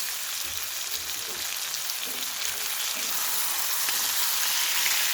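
Potatoes go into a pan of frying singh fish, giving a steady, fairly close sizzle of hot oil that runs evenly throughout with faint stirring crackles and no talking.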